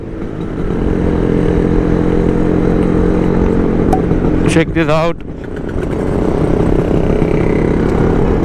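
A steady low engine rumble from a group of Yezdi Roadking and other classic motorcycles runs throughout, with a brief pass of revving near the middle, and someone speaks briefly over it.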